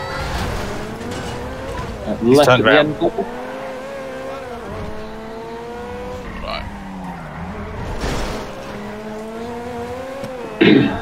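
A car in GTA V drives at steady engine drone with several sharp tire-skid squeals, one early burst and another near the end, while someone talks over it.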